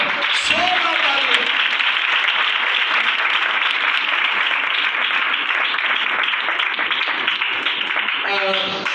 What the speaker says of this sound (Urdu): خدا کے خادم کے لیے زوردار تالیاں